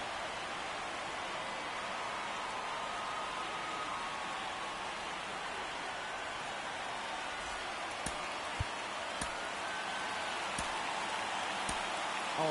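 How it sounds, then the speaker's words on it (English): Steady rain hisses down during a baseball game in MLB The Show 24, a constant even patter with a few faint clicks near the end and no voices. "We got more rain coming down"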